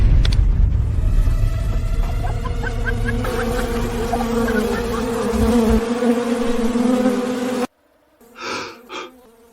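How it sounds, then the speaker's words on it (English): A swarm of wasps on a barren mountain, a loud dense buzzing drone with shifting tones that cuts off abruptly, followed by a couple of brief breathy gasps. "The wasps really are here."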